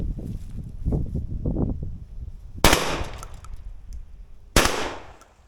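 Two loud, sharp shotgun blasts from a Sulun Tac 12 firing buckshot shells, spaced about two seconds apart, each followed by a short ringing decay. Low rustling and handling noise come before the shots.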